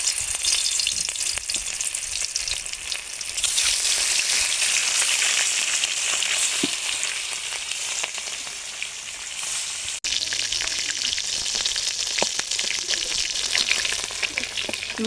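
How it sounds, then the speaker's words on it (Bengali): Pieces of katla fish frying in hot mustard oil in a wok, a continuous loud crackling sizzle with a few soft clinks, close up and with no talking. "মাছগুলো সুন্দর করে ভেজে নিয়েছি,"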